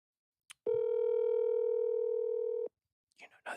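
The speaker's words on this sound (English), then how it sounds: "Let's see if we can get Greg on the phone" A telephone dial tone sounds while a call is being placed, a steady pure hum of about two seconds, loud and close, cut off sharply, with brief speech sounds just after.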